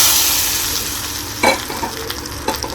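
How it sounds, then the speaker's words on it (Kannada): Hot tempering of mustard seeds and curry leaves poured into mashed toor dal, a sharp sizzle followed by crackling bursts and stirring, close and loud with no talking. "ನೋಡಿ ಈ ಒಗ್ಗರಣೆನ ಇದಕ್ಕೆ ಆ್ಯಡ್ ಮಾಡ್ಕೋಬೇಕು"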